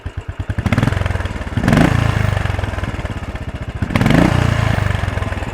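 A Royal Enfield Desert Storm motorcycle engine thumps at a loud, close idle with a distinct single-cylinder beat, revving twice in short bursts before settling back.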